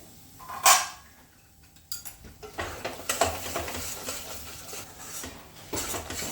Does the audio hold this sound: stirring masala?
yes